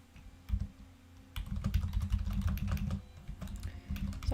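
Typing on a computer keyboard, rapid irregular clacking keystrokes in close bursts with brief pauses, fairly faint and without talk.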